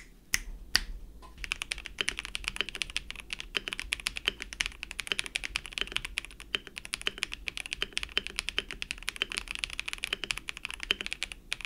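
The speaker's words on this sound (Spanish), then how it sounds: "sus interruptores lineales se escuchan bastante bien" Rapid typing on a LEGO-built mechanical keyboard with linear switches, a dense, steady stream of close clicky keystrokes with no voices.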